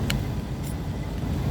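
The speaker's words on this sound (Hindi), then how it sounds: "अभी धड़केगी गाड़ी।" A vehicle engine rumbles continuously on a night ride down a ghat road from Mandu to Gujri, a steady low drone with no voices and a couple of brief high clinks.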